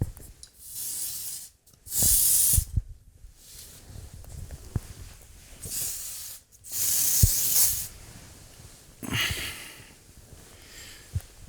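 Odor-Eaters Stink Stoppers foot spray hissing from an aerosol can in several loud, close bursts of a second or so each, separated by short pauses and handling noise.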